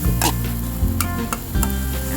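Vegan Southern Thai kua kling with tempeh and mushrooms dry stir-fried in a pan, giving a loud, continuous sizzle broken by the scraping bursts of stirring, with no talking.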